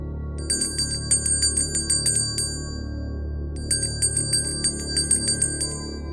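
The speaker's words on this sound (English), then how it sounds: "The satay seller walked slowly in the distance, ringing a bell with a sound that seemed familiar." A satay seller's cart bell rings in the distance: two bursts of rapid, bright metallic dings, with a short pause between them, over a steady low rumble.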